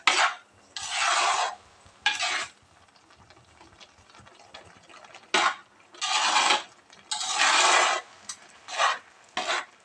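A spoon scrapes and rasps around a pan of beetroot pachadi mixed with curd, in short rhythmic bursts of a second or so separated by quiet pauses, close and fairly loud with no talking.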